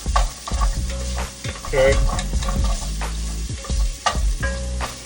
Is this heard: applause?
no